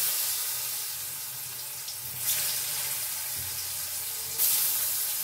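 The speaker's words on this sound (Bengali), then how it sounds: "আর পেঁপেটা এইভাবে ভেজে নেব" Salted, turmeric-coated papaya pieces fry in hot oil in a pan over a medium gas flame, giving a steady close hiss and sizzle with two brief louder crackling bursts.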